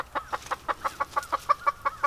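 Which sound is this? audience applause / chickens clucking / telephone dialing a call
chickens clucking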